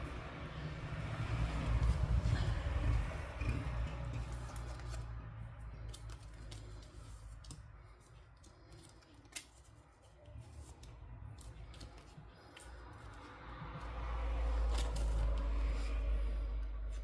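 K-pop photocards of the group Twice being handled and stored, with soft rustling, sliding plastic sleeves and occasional crisp clicks over a low background rumble.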